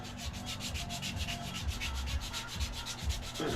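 Steady, continuous scratchy rubbing of sandpaper on a wooden fishing lure, close and even in rhythm throughout, with no voices.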